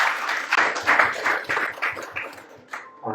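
Audience applause at a youth festival creative talk session in Sidoarjo, a burst of hand clapping from a seated crowd, fairly close and steady, tapering off after about three seconds.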